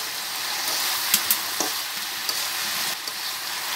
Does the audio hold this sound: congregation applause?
no